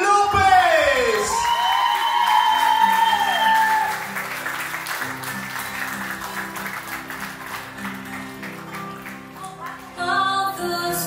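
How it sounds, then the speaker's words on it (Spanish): At a sweet sixteen celebration, guests applaud and cheer a grand entrance while music with sustained tones and a sweeping melodic phrase plays loudly over them, the clapping fading under the music before a brief swell near the end. "Fuerte el aplauso para Areli López."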